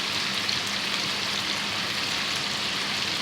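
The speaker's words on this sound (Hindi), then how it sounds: "इन सब चीज़ों को अभी हम मसालों को अच्छे से भूनेंगे।" Whole cumin, garam masala and red chilli powder frying in oil for a koila karahi, giving a steady, dense sizzle with an even crackle and no pauses. No voices can be heard over it.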